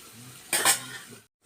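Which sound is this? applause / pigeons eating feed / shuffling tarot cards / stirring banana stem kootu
stirring banana stem kootu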